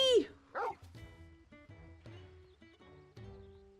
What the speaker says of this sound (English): This is Torgal, a wolf pup raised in the Duchy.